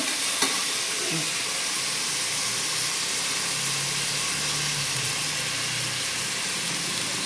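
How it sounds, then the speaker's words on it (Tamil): Mutton sautéing with onions in a pan gives a loud, steady sizzle and hiss that stays even throughout, close and alone with no voices. "வதக்கிட்டு அது கூட மட்டன் சேர்த்துக்கோங்க மட்டன் நல்லா வதங்கினோடனே"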